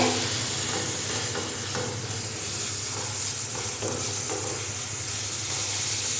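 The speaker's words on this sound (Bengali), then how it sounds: "দেখুন মশলাটা খুব সুন্দর ভাজা ভাজা হয়ে গেছে" Spice masala sizzles steadily in a pan for chicken chaap, a constant close frying hiss with faint stirring scrapes throughout.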